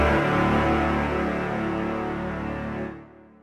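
Sustained woodwind ensemble chord from the 8Dio Majestica library, played as power sustains, dense and organ-like, holding steadily loud for about three seconds before releasing into a short fade.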